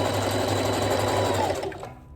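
A sewing machine runs fast and steadily while stitching 613 blonde hair bundles onto a wig closure, a close mechanical whir that slows and stops near the end.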